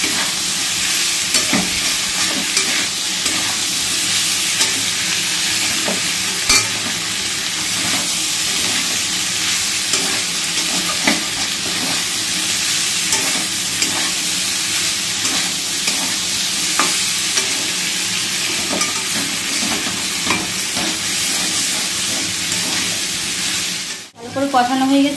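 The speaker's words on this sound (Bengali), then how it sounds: "ভালো করে মটরটা দিয়ে ভালো করে কষিয়ে নিই" Peas are sautéed in a pan, producing a loud, steady sizzle with repeated scraping strokes of a spatula over a long stretch and a brief dropout near the end.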